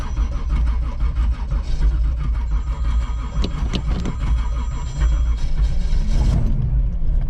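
A 1985 Oldsmobile Cutlass engine with a new carburetor runs at a loud, steady idle close by, a deep continuous rumble with mechanical clatter and a brief rise in tone near the end.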